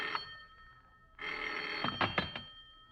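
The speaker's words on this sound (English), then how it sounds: "the phone bell cut through the darkness like a knife" A telephone bell rings in a 1946 radio drama. A brief chime comes first, then a sustained, insistent ring starts partway through with a few sharp clicks, close and clear in a quiet room.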